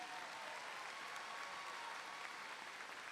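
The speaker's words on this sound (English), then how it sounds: "Give them a round of applause." A graduation audience at a high school ceremony claps steadily and loudly, a dense wash of applause that holds evenly from start to finish.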